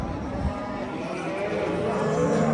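Cattle lowing amid the bustle of a Turkish livestock market in Şarkışla ahead of the sacrifice season, a steady low moo set against continuous crowd chatter and people talking nearby.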